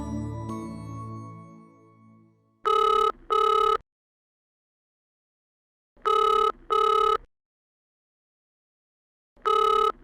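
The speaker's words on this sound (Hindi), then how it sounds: "पास में बैठी है, फोन नहीं उठा सकती" A telephone rings indoors in a home, loud and close. It gives three separate ring bursts, the first two paired, with silence between them, after a soft low fading tone at the start.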